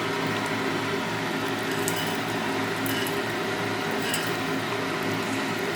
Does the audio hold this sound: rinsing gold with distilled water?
yes